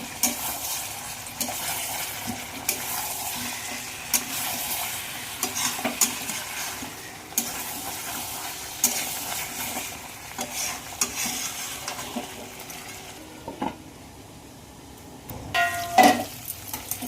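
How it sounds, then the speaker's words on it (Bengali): Braised meat with fried potatoes is stirred in a pan, giving repeated close scraping strokes and a steady sizzle that carry on for over a dozen seconds, ending with a sharper metallic clink. "দিয়ে দেবো ভেজে রাখা আলুটা, দিয়ে আবার একটু নাড়বো"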